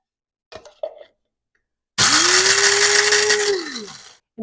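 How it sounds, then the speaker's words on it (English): An electric coffee grinder pulverizes whole black peppercorns and coriander seed for homemade steak seasoning, a loud steady whirring roar lasting about two seconds that winds down at the end, following a few soft handling clicks. "coffee grinder. I use this to grind all kinds of spices."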